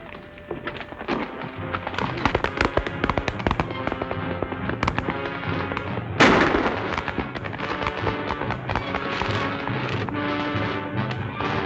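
Sharp gunshots crack out one after another over a busy, loud soundtrack in an old 1940 Western movie scene, with one especially strong blast partway through amid hoofbeats and music.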